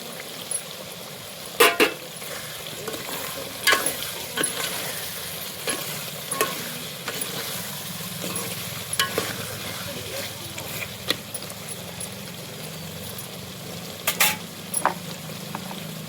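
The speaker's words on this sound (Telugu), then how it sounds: "చింతపండు కొబ్బరి వేసుకుందాం ఫ్రెండ్స్." Goat head curry with tamarind and coconut sizzles in a pot over a wood-fired stove as a spoon stirs it, with sporadic scraping clatters over a soft, steady frying hiss.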